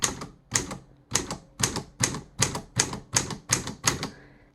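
Ten evenly spaced, sharp keystrikes on a Smith Corona Silent typewriter, each a crisp clack with a short mechanical rattle, close and loud in a steady rhythm.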